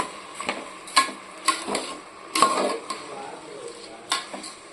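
Basmati rice stirred and fried in ghee in a pan, with repeated soft clinks and scrapes of a spoon against the pan over a faint sizzle, close by.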